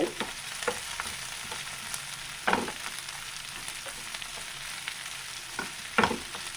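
Coriander leaves fry in a pan over medium heat, a steady soft sizzle broken by several louder scraping stirs, the clearest near the middle and end, with no talking.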